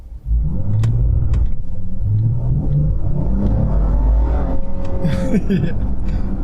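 A Dodge Charger GT with about 300 horsepower accelerates hard on an open road using launch control, its engine rumbling and revving loudly from inside the car while a person talks over it.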